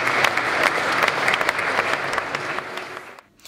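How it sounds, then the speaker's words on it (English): A crowd at a cycling awards evening breaks into loud, sustained applause with sharp individual claps through the middle, tapering off abruptly near the end. "Give yourselves a round of applause."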